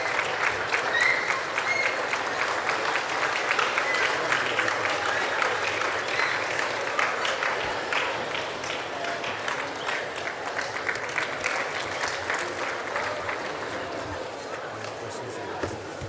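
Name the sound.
audience applause for the lecture speaker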